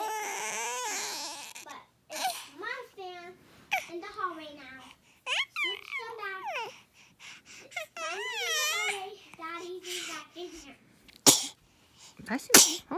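A young child sneezes amid a morning routine at home, a sharp burst standing out between bouts of whiny, crying child vocalizations and adult talk.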